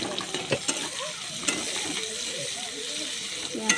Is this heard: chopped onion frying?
yes